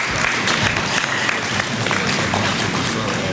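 A round of applause from the audience at a District Heights, Maryland town hall meeting, steady and dense clapping filling the room throughout.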